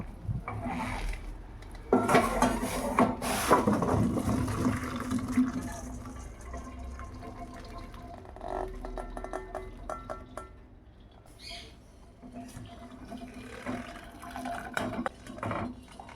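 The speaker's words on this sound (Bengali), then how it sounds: "এই সবজি সেদ্ধ গরম জল ফেলে দিয়ে এই পাত্রে আবারও জল দিয়ে" Hot water from boiled sweet corn, green beans and frozen peas being poured off from a cooking pot, a close, steady splashing pour with some clatter of the pot, fading to quieter dribbles, with no talking.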